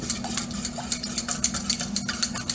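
Eggs being whisked in a bowl, a quick, regular train of light metallic taps and scrapes, close and clear with no talk over it.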